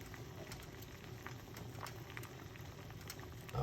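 Onion tea simmers in a pot, a faint, quiet bubbling patter that holds steady, with a louder knock right at the end.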